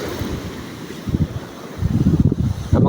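Strong coastal wind ahead of an approaching storm buffets the microphone in gusty bursts, with surf rumbling underneath on a beach where boats are being hauled up.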